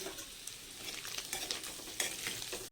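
Potato sandwich filling sautéing in a pan with turmeric and chili flakes, a steady close sizzle and frying crackle with occasional stirring scrapes throughout.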